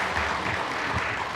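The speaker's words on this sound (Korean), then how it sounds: "박수 한번 쳐드려" Church congregation applauding during a Sunday worship service, a brief, fairly soft spell of steady clapping that fills the sanctuary without any talk over it.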